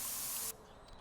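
A spray paint tool in the video game Spray Paint Simulator gives a loud, steady aerosol hiss for about half a second and then cuts off abruptly, leaving only quiet room tone.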